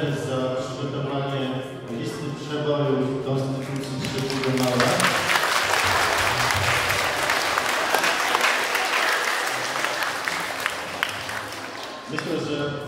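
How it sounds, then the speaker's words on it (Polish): Loud crowd applause for the teachers who prepared the performers at a school Constitution Day assembly, swelling from about five seconds after a stretch of music and voices and continuing densely to the end. "Brawa dla pan,"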